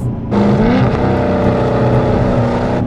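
A 2016 Dodge Challenger ScatPack V8 revs hard and shifts through gears, a loud close engine roar with pitch climbing and dropping at each shift, alone without talking.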